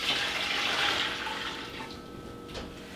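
Tap water runs steadily into a pot being filled with brine for pickled cauliflower, a broad close rush that softens slightly toward the end.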